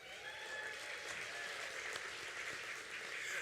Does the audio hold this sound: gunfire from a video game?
no